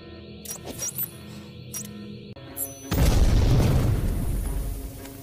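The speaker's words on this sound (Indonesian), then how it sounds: "Benda unik datang meledak mengeluarkan gas." In a Bollywood film, a deep boom of an explosion releasing gas bursts out after a short stretch of quieter electronic tones, followed by a sustained rumbling, hissing roar that slowly fades.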